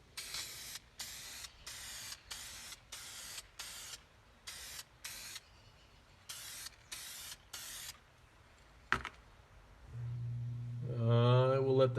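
Dupli-Color vinyl and fabric paint in white sprays onto a piece of carpet in a series of short, sharp hissing bursts with brief pauses between, followed by a low rumble and handling noise at the end.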